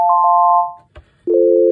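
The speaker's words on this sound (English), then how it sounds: "Everything down at the bottom, we get a nice, pretty sine wave." Pure sine-wave tones from a Roland MC-101 playing FM synthesis with the modulation turned all the way down: one steady sustained note, a brief click in a short gap, then a lower sustained note, clean and loud.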